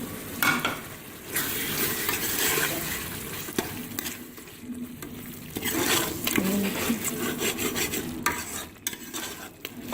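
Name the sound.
fenugreek leaves frying and being stirred in mutton tripe curry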